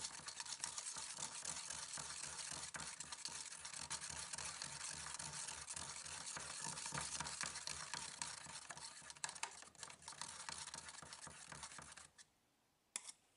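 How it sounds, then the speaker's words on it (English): Acrylic paint being stirred in a cup, mixed without pouring medium: a steady, close scraping and swishing that runs continuously, then stops abruptly near the end, leaving quiet. "And just keep stirring it up."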